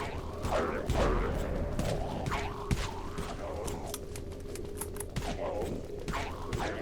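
A Dawn Enforcer gun being reloaded in the Dead Frontier video game, heard as a steady run of soft mechanical clicks and clacks over a continuous low game background.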